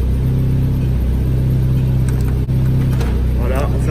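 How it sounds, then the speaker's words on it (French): A turbocharged car's engine keeps idling after the car is locked, a steady low rumble with strong low harmonics running continuously and close by, with voices briefly audible over it. "voilà, la voiture tourne encore"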